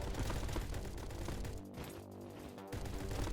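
An MP7 fires from the hip in Roblox Bad Business, fast continuous bursts of gunfire with a brief lull in the middle before the rapid shots resume, loud and close.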